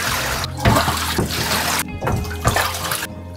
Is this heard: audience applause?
no